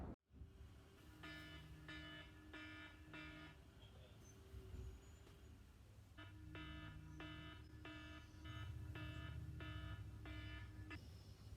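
A morning alarm clock rings in repeated bursts of electronic beeping, a short break in the middle before the pattern resumes, moderately loud against a faint room hum.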